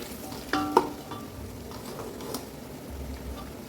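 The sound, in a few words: mint and coriander frying in oil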